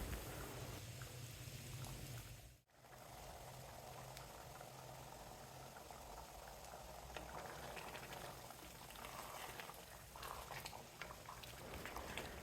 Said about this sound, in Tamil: 2-3 நிமிஷம் வரைக்கும் அடுப்பை மீடியம் ஃப்ளேமில் வச்சுட்டு கொதிக்க விடலாம்.